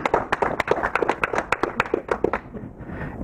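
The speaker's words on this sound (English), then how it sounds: "Another round of applause for them." Sparse clapping from a small seminar audience, a handful of distinct, fairly close claps in an uneven rhythm that thins out and stops after about two and a half seconds.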